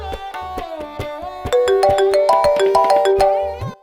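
A mobile phone ringtone plays a bright, plinking melodic tune with a steady beat, loud and close, and it cuts off abruptly near the end.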